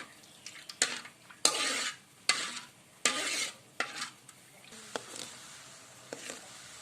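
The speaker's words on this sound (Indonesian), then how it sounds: "Santan udah mulai mendidih," Coconut milk bubbling and sizzling in a pan with repeated scraping strokes of a spoon stirring, loud bursts every half second or so, no talking.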